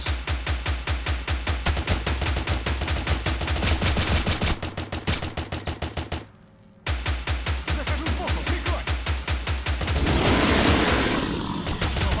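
Rapid automatic gunfire in the video game STALCRAFT, loud, close bursts of evenly spaced shots that stop for about half a second, then resume with a noisy wash of debris near the end.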